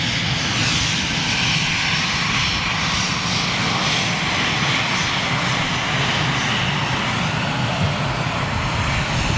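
Boeing 757 jet engines roar steadily at London Gatwick on a cold, windy day after de-icing, a loud continuous broadband rumble and whine that holds near-constant across the clip with no voices.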